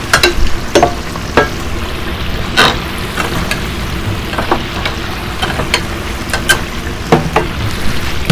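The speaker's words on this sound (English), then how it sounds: "And after I have it in the fryer, I leave it sitting there for about a minute, give it a little stir just so it doesn't stick together." Food sizzles steadily in a commercial pressure fryer, a dense crackling hiss with intermittent sharp pops and clicks, loud and close with no talk.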